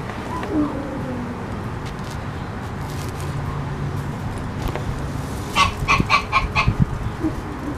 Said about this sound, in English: You just heard my goose.